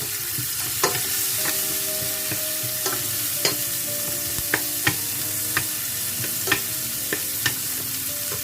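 Onions frying in a pan for Cameroonian-style tomato sauce, a steady close sizzle with regular sharp taps of a utensil stirring against the pan, no voices.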